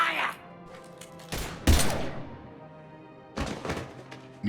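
A few short bursts of gunfire from Mass Effect 3, loud and close, separated by quiet gaps.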